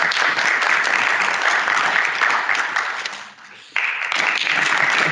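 A live podcast audience applauds in a full, steady roar of clapping that dips briefly, then surges back abruptly at full strength.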